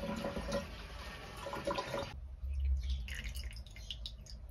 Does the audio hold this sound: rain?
no